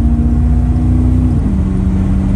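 A 1977 Chevrolet C10 truck engine with a Quadrajet carburetor runs loud and close, its steady rumble shifting pitch slightly as it revs, a low droning hum throughout.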